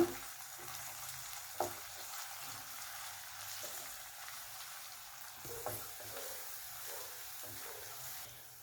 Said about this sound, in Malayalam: പച്ചമുളക് അരിഞ്ഞത്, കറിവേപ്പില, ഒരു ലൈറ്റ് ബ്രൗൺ കളർ ആവുന്ന വരെ ഒന്ന് നല്ലോണം ഒന്ന് വഴറ്റുക.